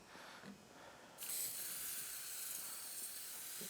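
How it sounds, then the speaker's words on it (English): A soft hiss gives way to a steady, broad aerosol spray of filter oil onto a Honda CBR 600RR air filter that continues to the end, close and fairly quiet. "we're going to spray both sides"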